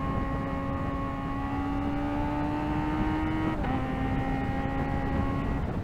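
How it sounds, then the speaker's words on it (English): Kawasaki Ninja ZX-4RR sport motorcycle engine screaming at high revs, holding a steady whine that drops sharply twice as manual downshifts click through, loud and continuous with no talk. "Oh, those downshifts, all manual."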